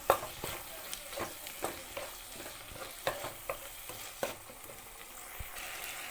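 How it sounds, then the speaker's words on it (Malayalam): A spoon stirs cut dried red chillies frying in a pan while cooking tomato rice, giving a run of regular scraping strokes about once a second over a faint, steady sizzle, close and quiet, with no talk. "അതുകൂടി കൊടുത്തിട്ട് നമുക്ക് നന്നായിട്ട് ഒന്നുകൂടി ഇളക്കി കൊടുക്കാം"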